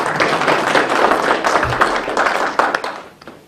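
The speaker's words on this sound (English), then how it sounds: "Let's give her a round of applause" Audience applause at a Sikh Assembly of America exhibition on the 1984 Sikh genocide at the US Capitol, a steady dense patter of many hands clapping that fades out near the end.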